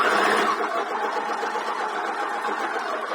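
A sewing machine stitches steadily around a fabric ice pack heart, giving a continuous close whirring hum with no pauses.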